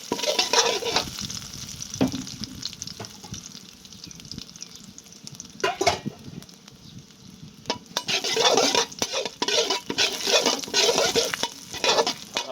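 Dried chillies are stir-fried in a wok for a Thai basil stir-fry with egg, a continuous sizzle with bursts of louder frying and clattering spatula scrapes, and no talking.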